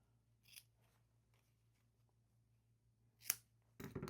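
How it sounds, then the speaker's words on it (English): Scissors trimming the ends of a ribbon bow on a handmade craft piece: two quiet, crisp snips a few seconds apart against a faint low hum. "let's just trim those ends"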